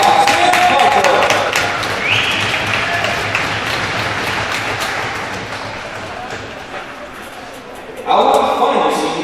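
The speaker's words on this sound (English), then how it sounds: "Let's give a round of applause for number 25, Sam Harper." Loud crowd applause rings out for a men's college hockey senior at a Senior Night ceremony, a dense steady roar of clapping that tapers slightly before swelling again near the end.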